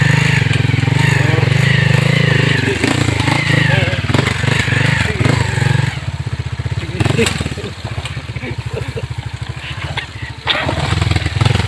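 Skygo 175 motorcycle ride through farm fields, a loud continuous engine drone that rises and falls with rattles and bumps throughout, voices talking over it.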